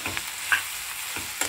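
Ivy gourd fry is tossed in a pan with a little oil and turmeric, giving a soft continuous sizzle and a few brief scraping stirs close by.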